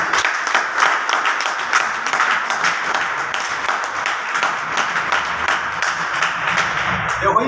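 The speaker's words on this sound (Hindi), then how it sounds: "इसी वजह से हमारे सुरेंद्र सर के लिए बार जबरदस्त ताली चाहूंगा।" Applause for Surendra sir at a driver-training meeting in Maujpur, a crowd clapping steadily and fairly loudly for several seconds, with scattered voices mixed in.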